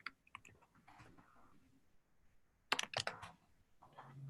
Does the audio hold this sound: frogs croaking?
no